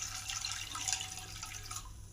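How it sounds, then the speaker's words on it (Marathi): Water pours into a pot of pasta being made into cheese pasta, a soft, steady splashing and trickling at low volume with no voices. "हे बघा आता पाणी टाकलंय."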